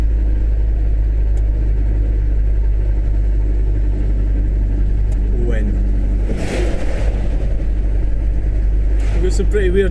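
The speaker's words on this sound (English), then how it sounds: "Some pretty weird noises come from the van" A van engine drones loudly and steadily while driving, with intermittent rattles and clunks breaking through the low rumble.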